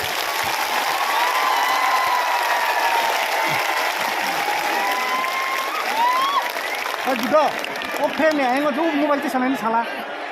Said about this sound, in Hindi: सबसे बड़ा ताली आपको होना चाहिए।